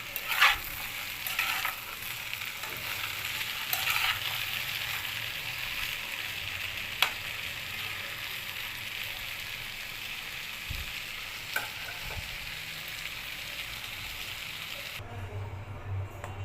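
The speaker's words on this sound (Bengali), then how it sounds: "এবার এটাকে খুব ভালো করে মিশিয়ে ভেজে নিব" Cauliflower pieces sprinkled with turmeric fry in a pan while being mixed, a continuous close sizzle broken by occasional spatula knocks, stopping abruptly near the end; nobody speaks.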